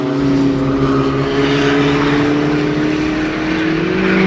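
Diesel and petrol Mk5 VW Golf race cars pulling away on a track, engines droning loud and close with rising, overlapping tones as they accelerate together.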